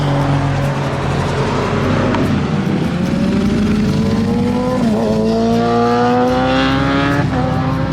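Vehicles that sound like motorbikes pass close by, loud engine drones rising and shifting pitch as several go past one after another, with no voices.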